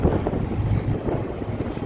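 Wind buffets the microphone aboard a passenger ship at sea off Phu Quy Island on a windy day with choppy waves, producing a continuous loud, rushing roar with low engine and water rumble underneath and no speech.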